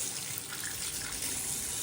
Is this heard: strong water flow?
yes